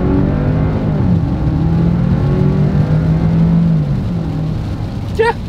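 2025 Audi Q7 SUV accelerating hard on a straightaway, heard from inside the cabin: a steady, loud engine drone rising in pitch through a gear change, with a brief faint beep near the end.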